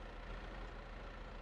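A small tractor's engine idles in Farming Simulator 22, a faint, steady low rumble with no other sounds over it.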